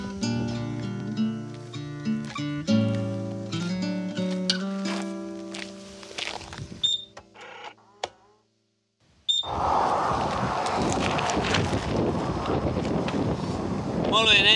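Wind roars across the microphone during a bicycle ride in the desert near Uyuni, loud rushing gusts filling the final five seconds after a stretch of music and a brief silence.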